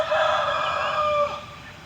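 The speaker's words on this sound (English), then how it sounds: "There's a rooster running around in this park too." A rooster crows in a park, one sustained loud call close by that trails off toward the end, with no other sound over it.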